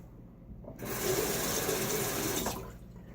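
A bathroom tap runs steadily for about two seconds as a razor is rinsed, switching on abruptly and then cutting off, close and fairly loud against a quiet room.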